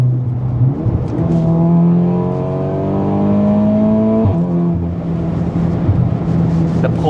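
An Audi accelerates hard from the inside, its engine note climbing in long rising sweeps, dipping once at a gearshift and then climbing again, steady and loud.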